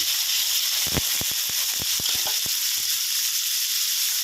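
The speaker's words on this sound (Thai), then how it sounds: "เราก็ใส่หมูที่เราหมักลงไปเลยนะครับ" Marinated pork fries with garlic in a hot pan for a sweet pea and pork stir-fry, producing a loud, continuous sizzle with a quick series of spatula taps and scrapes in the middle; no talking.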